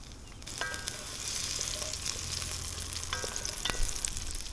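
Garlic and pearl onions sizzle in olive oil in a pot, a steady close frying hiss with a few clicks of utensils and no talking.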